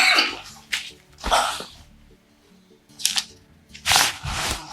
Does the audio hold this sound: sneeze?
yes